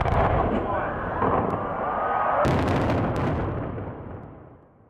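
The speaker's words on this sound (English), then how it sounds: "Fireworks." Fireworks boom and crackle at an Edinburgh New Year celebration, a loud rumbling burst followed by a sharp crack and fading rolling echoes.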